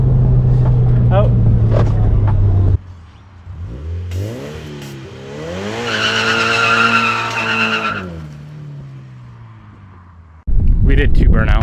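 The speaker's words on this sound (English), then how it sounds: "We did 2 burnouts" A straight-piped 700 whp Mitsubishi Evo does a burnout: a loud rising rev and screeching tire squeal with tonal engine harmonics, framed by close, loud bursts of noise at start and end.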